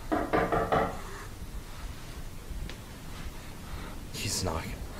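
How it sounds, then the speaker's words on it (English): Knocking on a door, a cluster of several quick raps near the start and a fainter tap later, heard in a tense setting with whispered voices and background rustle. "He's knocking."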